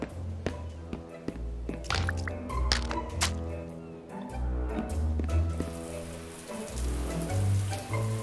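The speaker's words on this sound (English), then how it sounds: "Sam tries to take a shower." Shower water splashing and dripping in the video game Manual Samuel, a steady patter of droplets on a hard surface with scattered drips, heard alone over game music tones.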